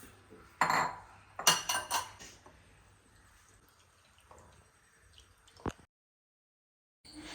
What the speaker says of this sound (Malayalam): ഇത് മൊത്തം നമുക്ക് അരിച്ചെടുക്കാം.